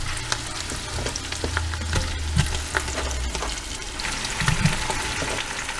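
Potato quarters sizzle in a hot pressure cooker pot with cabbage, a steady close frying crackle with scattered pops and a few clinks and stirring knocks underneath.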